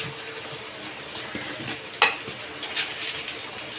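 Tomatoes sautéing in a pan for Tamil-style prawn thokku, a soft steady sizzle with a few light stirring clinks and scrapes, close and fairly quiet, no talking.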